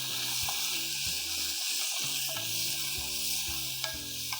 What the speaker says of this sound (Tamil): தக்காளி சேர்த்து ஒரு 2 மினிட்ஸ் நல்லா குக் பண்ணிக்கலாம்